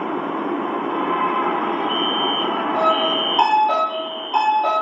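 A Lahore Orange Line metro train running, with a steady broad rumble and rolling rail noise, plus sustained tonal whines that shift and drop near the end, heard from close by without talk.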